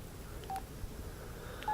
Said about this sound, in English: Yeah, I'm getting a lot of notifications right now.